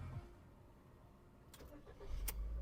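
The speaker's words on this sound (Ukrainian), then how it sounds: "Давайте запустимо двигун." A Ford Fusion with an automatic gearbox and about 130,000 km on it cranks and starts. The engine catches quickly, and a low rumble rises near the end of a quiet moment.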